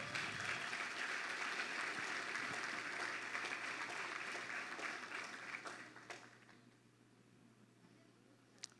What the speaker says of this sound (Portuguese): Vamos aplaudir a vida deles.